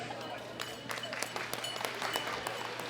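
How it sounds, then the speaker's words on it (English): Applause at the World Classic Powerlifting Championships 2018 for the official handing out medals, a steady roll of crowd clapping in a large hall with scattered louder claps, moderately distant. "Give him a round of applause."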